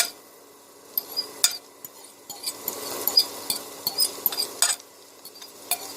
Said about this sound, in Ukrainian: обсмажуємо моркву. Олії повинно бути багатенько.